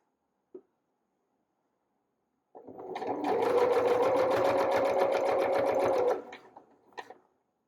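Twin needle sewing machine stitching binding on a summer cami, running steadily for about three and a half seconds after a brief click, then slowing and stopping, close and clear with no talk.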